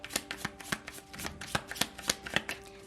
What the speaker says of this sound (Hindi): शफल कर लेते हैं कार्ड्स को ऑप्शन 3 के लिए